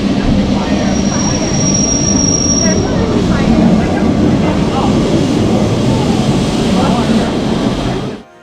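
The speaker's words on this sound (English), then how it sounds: "As we went uphill, we did get to see Lisbon's famous trams." Lisbon tram climbing uphill through city streets, a steady rumble of rail wheels and car body running continuously for about eight seconds, with brief squeals and crowd chatter mixed in.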